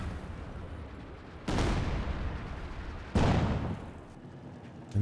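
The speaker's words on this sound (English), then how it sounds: "Grenade in." Grenade blasts in the Company of Heroes 2 battle game, two sudden heavy booms a couple of seconds apart over continuous battlefield rumble.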